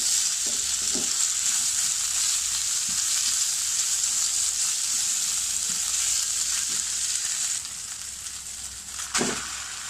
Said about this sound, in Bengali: এখন মাংসটা সবজির সাথে ভালো করে মিশিয়ে কিছুক্ষণ রান্না করে নেব।